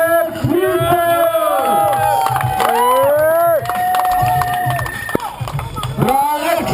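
The audience at a 2012 street skateboarding contest in Maribor cheers for skater Alex Friedel with loud whoops, shouts and whistles, plus sharp clattering knocks, all close and lively.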